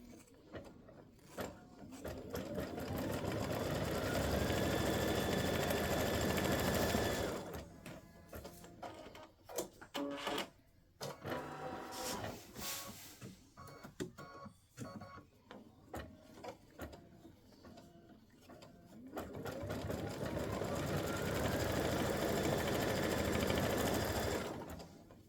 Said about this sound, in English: We're going to stitch the placement line.